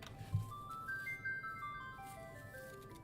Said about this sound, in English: It's my Final Fantasy ringtone.